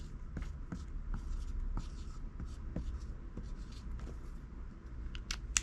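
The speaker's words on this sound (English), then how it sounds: "I get a black marker on there and I write" A black marker scratches across a label in quick short strokes, faint and close in a quiet room, with a few louder taps near the end.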